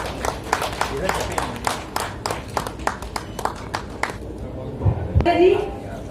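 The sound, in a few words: audience applause welcoming a guest at a seminar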